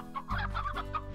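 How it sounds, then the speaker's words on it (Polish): A rock chicken in the Slime Rancher video game clucks in a quick, close series of short rhythmic calls over a steady low background hum. "To jest ta. Ta kura skalna."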